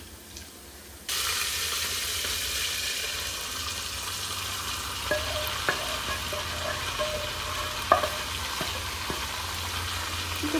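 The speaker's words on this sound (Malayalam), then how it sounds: "നമുക്കതിലേക്ക് എണ്ണ ഒഴിച്ചിട്ട് സവോളയും മറ്റുള്ള ഇൻഗ്രീഡിയൻസും എല്ലാം വഴറ്റിയെടുക്കാം" Onions and other ingredients hit hot oil in a wok for a fried chicken curry. A sudden sizzle starts and then holds steady, with a few clicks and scrapes from stirring and no talk.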